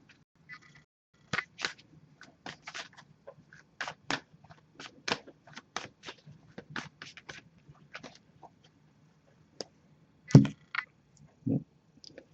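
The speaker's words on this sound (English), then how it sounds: "So I'm just going to give this a few shuffles, and then we'll actually cut the deck" Oracle cards riffled and shuffled in short crisp bursts, a quick series of papery flicks and snaps, close and fairly quiet, with no talking.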